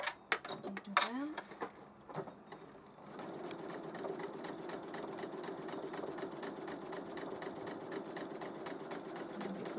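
Sewing machine chain piecing 2.5 inch quilt squares for a beginner quilted place mat, a few handling clicks and rustles at first, then a steady, fast, even mechanical stitching hum that runs on close and moderately quiet.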